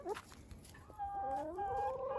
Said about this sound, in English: The chickens that I don't really like, but hey, they're good layers.